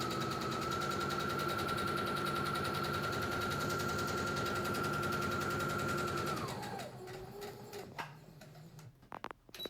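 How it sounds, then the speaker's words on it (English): A sewing machine runs a continuous straight stitch seam down the hem of a fabric face mask, a steady mechanical whir that holds for about six seconds, then slows and stops with a few faint clicks. "we're gonna sew a straight stitch seam straight down the left side of this hem here."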